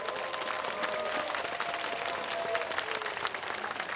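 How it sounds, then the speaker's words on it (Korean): Dense, steady applause from a large crowd at the opening ceremony of the Daegu Folk Festival, loud and sustained throughout with no break. "큰 박수로 환영해 주십시오"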